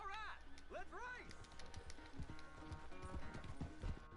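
Hooves clop in a quick galloping rhythm during a horse race in a video game, faint and steady beneath someone talking, with a few sharp game sounds mixed in.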